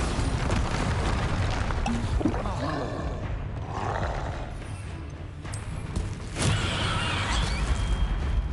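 Bombard spell explosions in Hogwarts Legacy combat boom through a dense, constant roar of game noise, with a sharper blast surging near the end.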